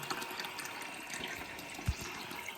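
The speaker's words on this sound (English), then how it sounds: "the cistern is filling up through the float valve" Water runs into a toilet cistern through its float valve, a faint steady trickling hiss with one soft low knock partway through and no talking.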